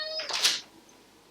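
A house cat gives one short meow indoors, close and fairly quiet, followed by near silence.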